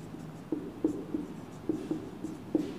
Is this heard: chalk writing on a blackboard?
yes